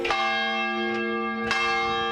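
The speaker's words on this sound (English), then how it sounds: "right up these stairs are 14 church bells to the Church Bell Tower" Church bells in the bell tower of Reid Memorial Presbyterian Church, Indiana, ring out with rich, sustained tones, struck several times in a row so each new clang blooms over the lingering hum of the last.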